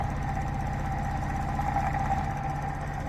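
A magnetic switching motor spinning at high speed, giving a steady mid-pitched hum with a fast even buzz throughout, close and continuous with no talking.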